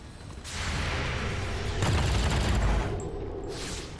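Gunfire in the tactical strategy game XCOM Long War 2 during an extraction mission: a loud, sustained volley of overlapping shots and blasts that swells midway and then eases off, with no voices.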